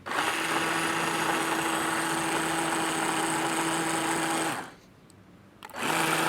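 A blender motor whirs loudly and steadily with a high whine while blending birria sauce, cuts out for about a second, then starts up again.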